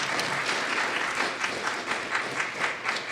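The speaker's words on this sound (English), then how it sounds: "Can we give our Chief a clap?" An audience at a community gang-awareness meeting applauds the police chief, with steady, dense clapping from many people that carries on evenly for a few seconds.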